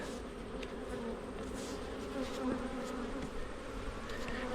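Honey bees buzzing during a backyard honey harvest, a steady close swarm drone that hums on without a break, with occasional louder passes near the microphone.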